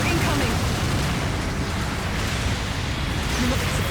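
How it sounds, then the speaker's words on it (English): Long-range supporting fire explosions in Gundam Battle Operation 2 rumble as a continuous, loud, dense barrage of booms and bursts, with a voice speaking over the steady roar. "Long-range supporting fire incoming."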